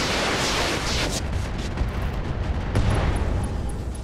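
A missile salvo strikes a mech in the BattleTech mod Roguetech, making a dense, continuous rumble of loud overlapping explosions that roll on for several seconds with no voices.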